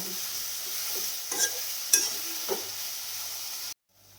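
Onions fry in a pan under a constant soft sizzle while a spoon stirs them, scraping in a few distinct strokes, before the sound cuts off abruptly near the end.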